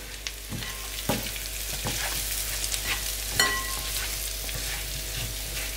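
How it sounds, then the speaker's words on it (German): Chicken and fries with salt, pepper, sweet paprika and cayenne sizzling steadily in a frying pan while being stirred, with occasional scraping clicks and taps over a continuous close hiss. "Umrühren."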